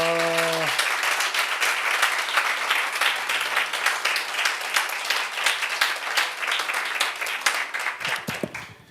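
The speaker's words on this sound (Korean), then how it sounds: "우리 하나님께 영광의 박수 올려드리겠습니다." A church congregation bursts into sustained, dense applause of many hands clapping together, loud and steady for several seconds before it begins to thin out at the end.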